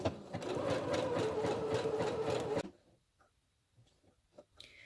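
A sewing machine runs a zigzag test stitch in a steady, close, rapid run for about two and a half seconds, then stops abruptly, leaving faint small clicks and handling noises.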